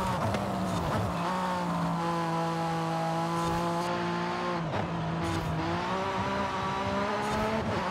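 Porsche 911 GT3 R race car engine in Forza Horizon 5, a steady high-pitched howl holding a near-constant note, with brief lifts and gear shifts around the middle and a tyre scrub, loud and close with no talk.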